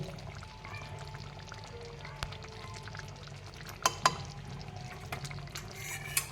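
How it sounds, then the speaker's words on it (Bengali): A spoonful of ghee goes into a simmering paneer curry in a pan. A quiet, low sizzle runs underneath, broken by a few sharp utensil taps and clicks near the end. "এবার দিয়ে দেব 1 চামচ ঘি"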